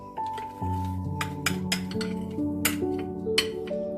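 A mini metal baking tray clinks and rattles as it is handled in a kitchen, with several sharp metallic knocks and ringing tones over a short stretch, close and moderately loud, with no talking.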